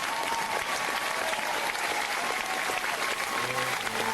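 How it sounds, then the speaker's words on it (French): A crowd applauds steadily, a dense sustained clatter of many hands clapping at moderate distance without pause. "arrêtons-nous là-dessus avec des petits applaudissements et un sourire."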